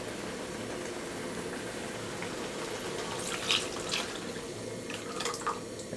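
Beef stock poured into a pot of haleem mix, a steady low liquid splashing and bubbling with brief brighter splashes near the end, close and fairly quiet.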